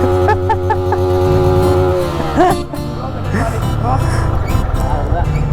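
A motorcycle engine running close by, a steady loud idle rumble with slight revving, while people talk over it.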